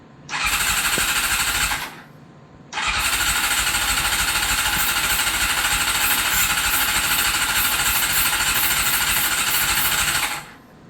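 A barn-find Honda CBR600 motorcycle on full choke cranks over and revs in a loud, steady mechanical roar, breaking off briefly near the two-second mark and then running continuously until it cuts out near the end.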